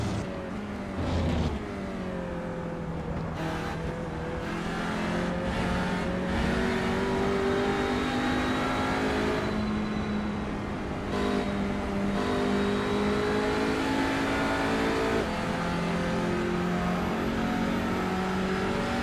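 Sim-racing TCR touring car engines in iRacing, loud and continuous, with rising and falling revs as the driver hammers the throttle and then backs off, several cars close together with a faint tire squeal.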